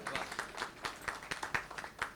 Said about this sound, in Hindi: आप सबके लिए एक बार जोरदार तालियां